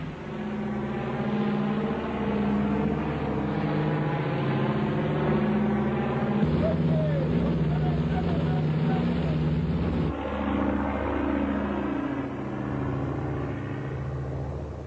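A transport aeroplane flies overhead just after a low-altitude parachute jump by a formation of Legionnaires, its engines giving a loud, steady, droning rumble that sustains throughout.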